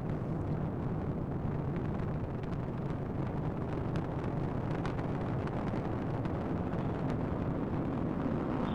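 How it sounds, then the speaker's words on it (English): A SpaceX Falcon 9 rocket lifts off carrying a Dragon capsule to the International Space Station, making a continuous heavy, crackling roar that stays steady and loud throughout, with wind buffeting the microphone. "Liftoff of the SpaceX Falcon 9 rocket, launching Dragon to the International Space Station"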